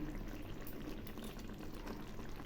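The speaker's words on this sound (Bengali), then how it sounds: "এই যে সবগুলো মাছ দিয়ে দিলাম এগুলি আরও ফুটবে" Puti fish curry simmering in a pan, a steady close bubbling and sizzling hiss that runs unbroken with no talk.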